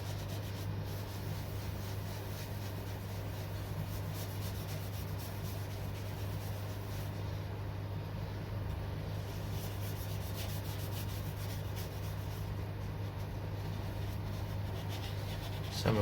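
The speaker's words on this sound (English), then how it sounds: "now going to use the cut and polish just to denib the cellulose sealer, give it a deeper shine." A wooden bowl coated in cellulose sealer is rubbed with cut and polish, giving a soft, steady rubbing and brushing sound under a low constant hum, close and quiet throughout.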